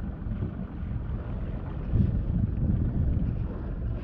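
An outboard-powered motorboat crossing a river current opens its throttle, a steady low engine drone swelling louder about halfway through amid wind buffeting on the microphone.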